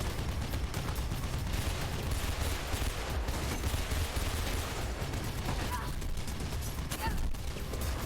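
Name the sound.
gunfire shooting at the player in a video game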